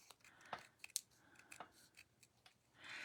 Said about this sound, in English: And then I am just going to fussy cut roughly around here.